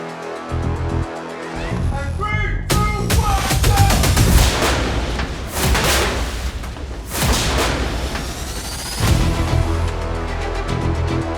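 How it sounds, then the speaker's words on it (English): Pyrotechnic explosions set off on the film set of a TV series, several loud booms and crackling blasts in quick succession after a short quiet lead-in, with sharp bursts near 3, 4.5 and 7 seconds and rumbling debris between them. "Everybody's super excited when explosions happen."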